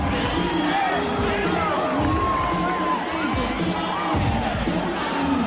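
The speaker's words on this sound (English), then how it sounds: "Hearing some cheers and boos" Arena crowd at a 1997 boxing match, Evander Holyfield vs Michael Moorer II, as a fighter walks to the ring: loud mixed cheering, whoops and shouting over a dense babble, with a scattered bang or two.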